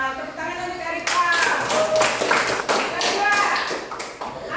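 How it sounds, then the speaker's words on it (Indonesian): A classroom of students claps for a classmate, a brisk scattered round of applause lasting several seconds with children's voices mixed in underneath. "Tepuk tangan untuk Erika."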